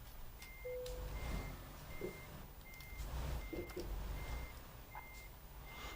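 A truck in a trucking game backs up with a steady reversing beeper, about eight evenly spaced tones over a low engine drone, with faint clunks and thumps between beeps.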